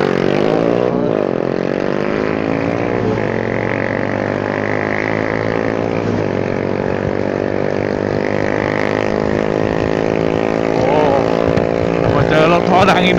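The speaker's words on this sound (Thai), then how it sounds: "ท่อดังอีกหนึ่งครั้งนะครับท่อกระป๋อง" A Honda Forza 300 scooter with a loud tin-can aftermarket exhaust drones steadily up close, its engine pitch rising and falling with the throttle, while someone talks over it.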